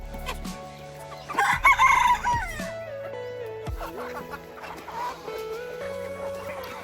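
A rooster crows loudly nearby amid background clucking and farmyard noise, with a few chickens calling over a steady hum.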